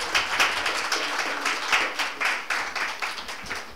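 Applause fills a room at a regional Pirate Party meeting in Prague, with clear individual claps pulsing in a quick, fairly even rhythm from a smallish group at moderate distance.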